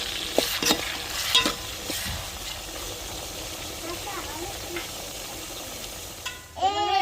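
Tomato, onion and green chili sauté in a pan over a village fire, a soft continuous sizzle broken by scraping stirs and clinks, with a voice briefly present.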